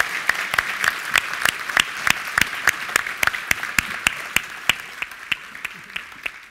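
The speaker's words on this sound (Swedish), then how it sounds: "Jag tycker vi ger Kalle en ordentligt varm applåd." Applause at a heritage award ceremony, a fairly sparse, rhythmic round of clapping with distinct individual claps in steady beats that gradually thins and fades toward the end.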